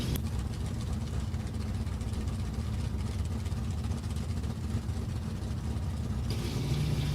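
Drag racing car engine, a Pontiac idling at the starting line of a New England Dragway NHRA event, a steady loud low rumble that holds throughout with a brief rise near the end.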